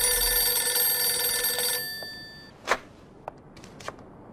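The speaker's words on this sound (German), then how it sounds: "ich gehe mal ans Telefon derweil" An old-fashioned telephone bell rings loudly in the crime game Mafia 2, a dense metallic jangle that cuts off partway through, followed by a few faint clicks and taps.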